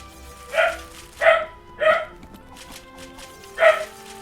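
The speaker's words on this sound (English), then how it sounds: "I just heard another woof" A dog barks four times in a game (Monster Hunter World) during a summer event, sharp mid-pitched woofs in a loose rhythm with a gap before the last, moderately close over a quiet background.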